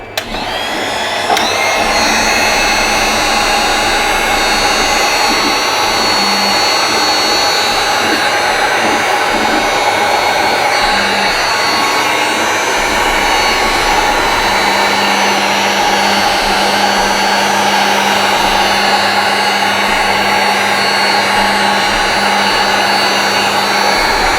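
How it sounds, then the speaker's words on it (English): A corded heat gun shrinks tubing over wire connections while installing a dual USB charger in an EF Honda Civic, blowing a loud, steady airy whine that holds for the full stretch without talk. "I do have a heat gun plugged in right down here."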